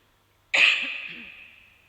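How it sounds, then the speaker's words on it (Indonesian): A single sharp cough bursts out close to the mic, its rasp trailing off over about a second, with silence before it. "maaf saya agak batuk"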